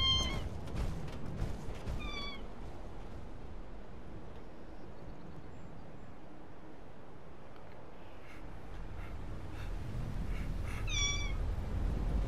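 A cat meows a few times in the video game Fallout 76, short and fairly faint, over a steady low rumble of background noise.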